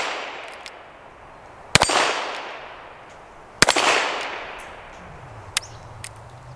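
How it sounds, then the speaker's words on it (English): Revolver shots ring out at an outdoor range as a steel gong rack is knocked down: two sharp cracks with metallic ringing tails, then a few fainter, smaller snaps and clinks later. "let's go down the gong rack"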